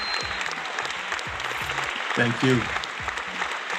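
Studio audience applause on a talk show, steady moderate clapping with a voice briefly speaking over it partway through.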